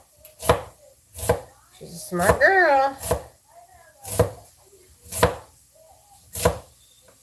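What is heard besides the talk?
chopping carrots and produce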